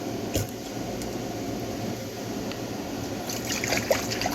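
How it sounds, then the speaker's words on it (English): Vinegar pours steadily from a brand-new bottle as four cups are measured out for pickled beets, making a continuous soft liquid trickle at close range with a faint background hum and no talking. "Pour our vinegar. This is 4 cups."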